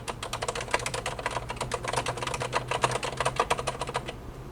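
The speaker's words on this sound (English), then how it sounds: "And these are MX cherry switches." Fast, steady typing on a mechanical keyboard with Cherry MX switches, dense close clicking keystrokes that run for about four seconds, then stop.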